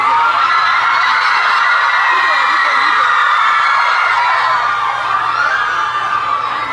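A concert crowd at a live hip-hop show yells and cheers loudly and continuously, with high whoops and shrieks layered over a roaring mass of voices.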